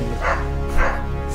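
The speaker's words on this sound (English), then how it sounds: "Can you hear the dogs?" Dogs bark in a house, heard as two muffled, boomy woofs about half a second apart under a low, continuous hum.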